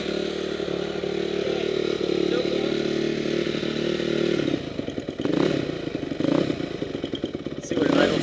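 A rebuilt Honda CRF250R dirt bike engine runs steadily up close, then turns choppier with a few sharp revs and bursts, with no talk over it.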